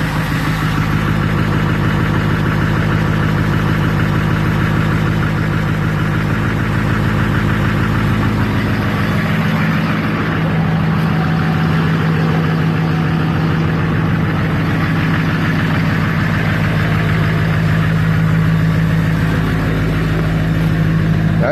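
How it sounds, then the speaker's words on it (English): Diesel pickup truck with a gutted exhaust and EFI Live tune idling loudly and steadily up close, a deep rumbling drone with faint knocking running throughout. "I can actually hear it out the exhaust now."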